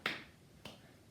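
A single loud finger snap or click is followed about half a second later by a softer second snap, a fragment of a clap-click-clap rhythm, close and dry with no talking.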